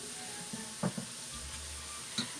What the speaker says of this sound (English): Oh yeah, this meat's cooking fast.